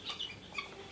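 Chickens on a poultry farm give soft, close clucks and short chirpy calls in a brief, quiet burst.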